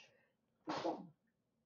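A single sharp sneeze bursts out during a Dungeons and Dragons tabletop session. Quiet breathing surrounds it, and the room is otherwise still.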